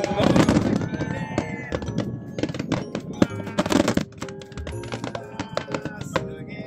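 Fireworks from a festival display seen from a private cruiser crack and pop in rapid bursts, sharp close reports with crackling trails, while people on board exclaim under the bangs.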